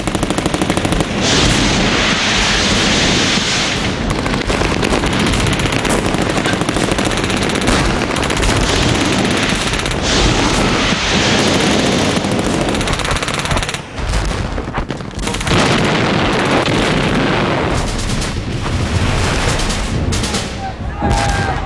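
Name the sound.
gunfire and explosions in WWII island battle footage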